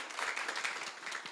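A crowd claps for a chef who won a James Beard Award, with fairly steady applause for the short stretch and no talking over it.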